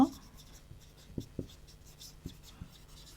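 Pen scratching questions by hand into a student's notebook during a Class 7 science lesson, heard as a few short, faint strokes and taps at an irregular pace in a quiet room.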